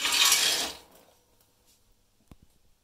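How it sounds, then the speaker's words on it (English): A quick, close hiss of wood pellets pouring into a gravity-fed pellet rocket stove, lasting under a second, followed by near silence and a single faint click. "But here we will feed the pellets."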